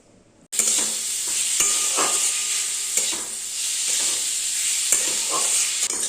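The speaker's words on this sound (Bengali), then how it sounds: "চিচিঙ্গাটা কালো জিরে শুকনো লঙ্কা দিয়ে ভাজা নুন হলুদ আর একটু চিনি দিয়ে" Snake gourd is tipped into a wok of hot oil with black cumin and dried chilli, bursting into a loud sizzle after half a second that hisses steadily under recurring stirring scrapes.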